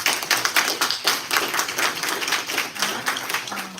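An audience at a Dolton trustees meeting applauds firefighters, a short burst of steady, moderately loud clapping from a modest crowd.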